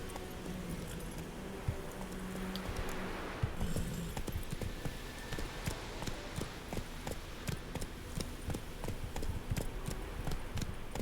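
Roach the horse from The Witcher 3 trots over, a steady clip-clop of hooves running through the whole stretch over ambient game music and a low background bed.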